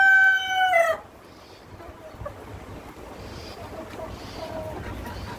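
A young three-month-old Australorp rooster lets out one loud, clear crow in the first second, then fades to quiet farmyard background with faint distant sounds.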